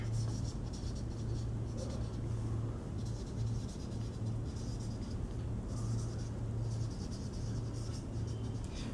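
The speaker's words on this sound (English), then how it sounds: "Let me write this." Steady scratching of marker or chalk on a classroom board during a physics lecture on force, continuous strokes over a low background hum, with no talking.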